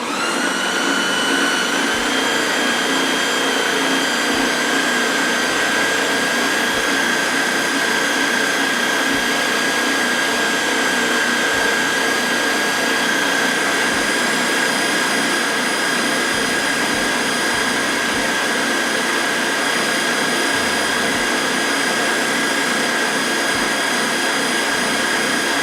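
A Ninja blender whirs continuously at high speed while mixing cheddar cheese mashed potatoes with butter and milk, a loud, even motor drone with a steady whine holding for the whole stretch.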